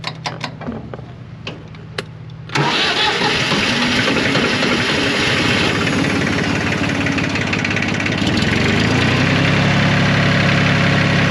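A Jinma 254 Chinese tractor's diesel engine cranks after a few clicks, then fires up and idles with a loud, steady, knocking rumble close by, with no speech.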